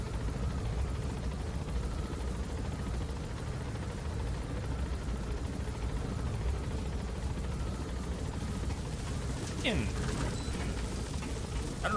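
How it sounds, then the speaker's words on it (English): A helicopter flies in the video game Metal Gear Solid V: The Phantom Pain, a continuous dense rotor drone filling the whole stretch, with a voice talking over it. "Wait till the copter's gone. Could just be the shake from the helicopter."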